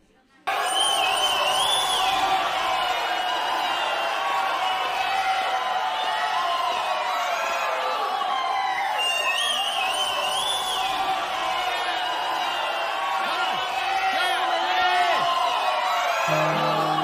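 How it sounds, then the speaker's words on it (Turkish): A large crowd cheering and whooping on a campus, a dense sustained roar of shouts and excited voices that holds steady throughout, close and loud. "Şimdi lütfen paleontoloji bölümünden maili için bir alkış alalım."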